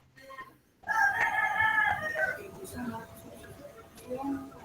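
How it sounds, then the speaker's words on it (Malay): A rooster crows once in a long, loud call, with clucking fowl and a person talking faintly underneath during an online class recording. "Ayam siapa yang bunyi ni?"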